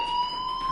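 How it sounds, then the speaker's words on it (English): A loud, steady electronic fire alarm tone sounds continuously, a high, piercing ringing that holds unbroken for the whole short moment. "Hey, do you hear that fire alarm?"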